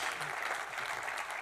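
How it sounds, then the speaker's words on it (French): A short burst of dense, even applause from a seated audience at a French golf and sports turf trade event, quiet and steady with no voices. "Applaudissements pour Gérard Rougier, s'il vous plaît."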